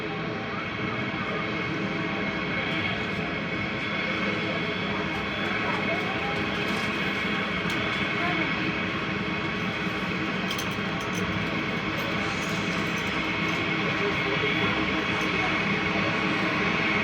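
At San Francisco International Airport, a plane's jet engines hold a steady, continuous roar and whine heard from inside the terminal, loud and unbroken throughout.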